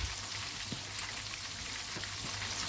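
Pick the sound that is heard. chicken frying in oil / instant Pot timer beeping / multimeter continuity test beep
chicken frying in oil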